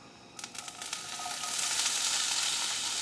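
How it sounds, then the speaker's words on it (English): Peppers and onions hit a hot pan and a loud, steady sizzle builds and continues, with a few clinks of stirring at the start. "And listen to the sizzle."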